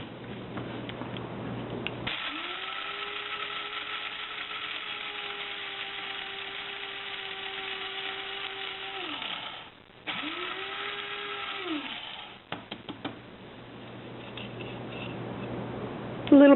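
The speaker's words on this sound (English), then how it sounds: "What I'm going to show you is how to make your own onion powder. In my handy grinder." An electric grinder runs close and loud, grinding dehydrated onion into powder with a steady high motor whine. It makes one long burst, stops briefly, then starts again for a shorter second burst before falling quiet.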